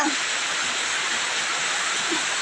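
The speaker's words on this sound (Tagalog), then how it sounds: "umaapaw na ang tubig" Floodwater overflows and rushes beside a house in the rainy season, a steady broadband gushing wash that stays even and fairly close throughout.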